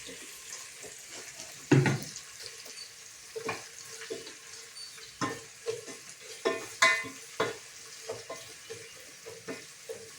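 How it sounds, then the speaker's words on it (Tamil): Chopped onions sautéing in a pan for chicken biryani, a soft steady sizzle broken by irregular scrapes and clinks of a ladle stirring, moderately close and fairly quiet, with no talk. "இப்போ வெங்காயத்தை போட்டுக்கலாம். வெங்காயம் வதங்கிட்டேன்."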